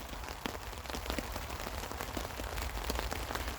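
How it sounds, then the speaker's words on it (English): Heavy rain pours steadily outdoors beside a roadside camp on a slope, a dense, even hiss with scattered close drops pattering on nearby surfaces, no voices. "That rain's on for the night, you know."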